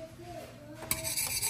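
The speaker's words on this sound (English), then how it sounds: "So I'm just going to kind of vigorously whisk this" A whisk scrapes and rattles briskly against a pot of simmering breakfast mixture on the stove, a quick metallic swishing that starts sharply partway through over a low kitchen hum.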